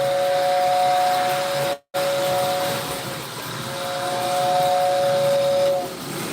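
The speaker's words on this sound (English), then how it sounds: "I got the whistle working." A model train layout's steam whistle sounds a loud, sustained, clear tone with faint hiss, cut by one brief gap, then blowing again before tapering off.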